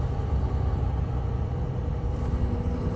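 A vehicle travels an intercity road through a small forest, giving a steady low rumble of engine and road noise with no talk.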